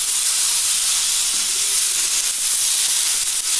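Tomatoes being mixed into a hot pan of spiced paneer curry base, giving a steady loud sizzling hiss that holds evenly throughout without pause.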